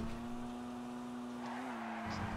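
A Vauxhall Corsa in the game GTA drives with a sustained engine drone and a long tyre squeal, moderately loud and steady, with no talk.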